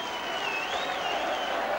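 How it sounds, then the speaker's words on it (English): Crowd applause for the coach at a 1983 Hull versus Barrow rugby league match: a steady, broadband roar of clapping and cheering from a large stadium crowd, sustained evenly at moderate level throughout without pause. "getting his full share of the applause"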